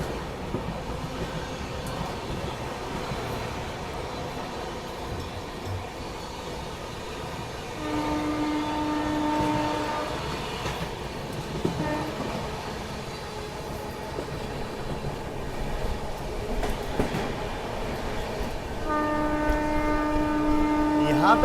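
The Marudhar Express runs along the track with a steady rumble and rail clatter, while a passing train crosses with long tonal horn blasts sounding twice, heard from on board.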